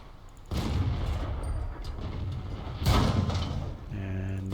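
Tank guns firing in World of Tanks, two heavy booming shots about two seconds apart, each followed by a lingering rumble, with a mechanical clank near the end.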